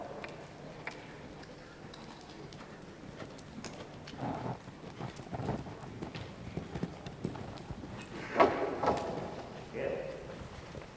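A horse canters over poles during a riding clinic, hooves thudding in an irregular rhythm at moderate distance, with a few sharper knocks near the end and a person speaking over it.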